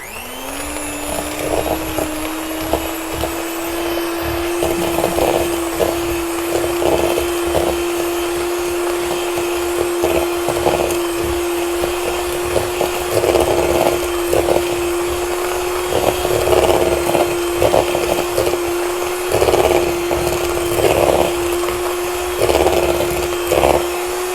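An electric mixer whirs steadily as it beats lemon quick bread batter, holding one constant motor whine for a long stretch. Soft rhythmic pulses from the beaters churning the bowl run under the whine, with no talking.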